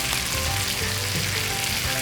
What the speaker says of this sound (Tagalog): Mabilis lang naman kasing maluto tong beef na to.